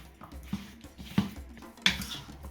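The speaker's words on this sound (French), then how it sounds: "je vais prendre une spatule pour mélanger le tout" A spatula stirs a barbecue chicken wing marinade, giving a few soft, quiet scrapes and squishy knocks spaced apart, with no talking.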